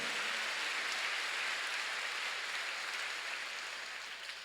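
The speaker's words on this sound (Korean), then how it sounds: "박수로 하세요" A church congregation claps together during a sermon, a dense steady wash of applause that holds evenly across the whole stretch and tapers slightly toward the end, with no voices rising above it.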